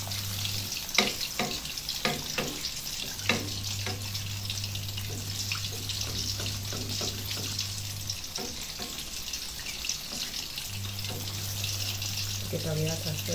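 Close, continuous sizzle and crackle of tofu pempek (Palembang fish cakes) frying in oil, with occasional clicks and clinks of a utensil stirring.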